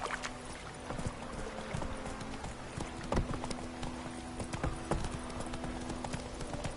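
A horse's hooves clip-clop at a steady walking rhythm in the video game Witcher 3, with a continuous outdoor ambience underneath and no talking.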